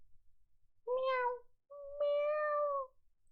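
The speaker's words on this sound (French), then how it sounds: "Et je croise un chat" A cat met on a walk home gives two separate meows, fairly faint but distinct against near silence, the second longer and steadier than the first.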